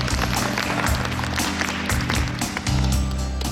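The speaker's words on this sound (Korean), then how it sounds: "큰 박수 부탁드립니다." Audience applause at a Sony Alpha 9 camera launch event in Korea, steady and dense throughout with low hum and bass beneath it, moderately loud and continuous.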